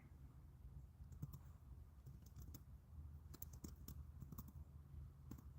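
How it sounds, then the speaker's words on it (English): Someone types on a computer keyboard while wearing gloves, producing irregular soft clicks and short clusters of key taps, faint and close, with no talking. "Typing in gloves is not the easiest thing in the world."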